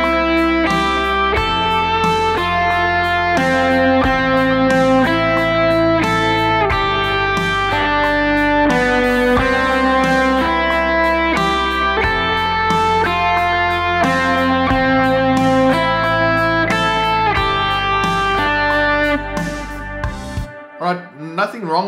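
An effects-laden electric guitar plays safe chord-tone triads over a repeating progression, with sustained chords changing in a steady rhythm, loud and alone, before cutting off near the end.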